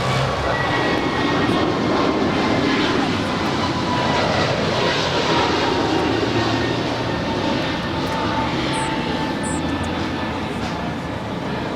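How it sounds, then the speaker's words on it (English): An Alaska Airlines Airbus A321neo takes off from runway 25 right at Los Angeles International Airport, giving a loud, continuous, broadband engine roar that holds steady throughout. "It's an A321neo blasting off here on the south side on 25 right."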